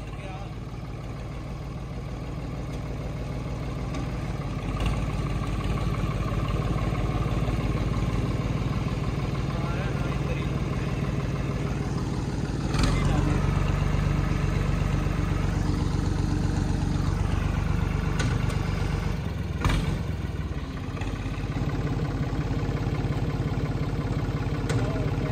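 Tractor engine idling, a steady low mechanical chug that holds throughout and thickens briefly midway, with someone talking over it.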